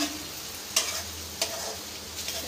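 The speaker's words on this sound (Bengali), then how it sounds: "মাংসটা একটু হালকা ভাজা হয়ে যাবে" Chicken pieces and potatoes fry in a pan with a dense, continuous sizzle broken by a few sharp stirring scrapes, fairly quiet and close; no voices.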